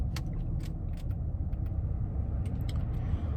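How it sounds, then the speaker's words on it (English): Steady low rumbling hum of a car heater blowing inside a parked car on a cold day, continuous and fairly loud, with faint clicks and light rattles above it and no talking. "if y'all hear some noise, that's the heat in my car"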